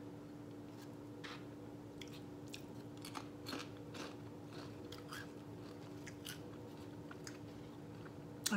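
Close-up chewing of vegan cheese, black bean and potato tacos, with soft crunchy bites and wet mastication repeating irregularly over a steady low hum.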